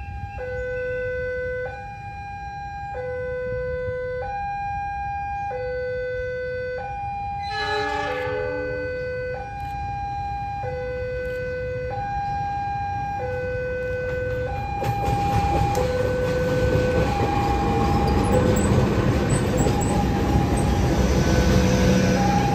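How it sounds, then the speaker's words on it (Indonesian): A two-tone warning horn alternates in a steady pattern while the Mutiara Selatan passenger train rumbles into Surabaya Gubeng station, the noise of the train swelling louder later on. "ini juga ada kedatangan kereta api Mutiara Selatan ya"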